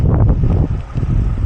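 Blustery wind roars steadily in snowy bad weather, a dense low rumble of gusts buffeting the microphone throughout.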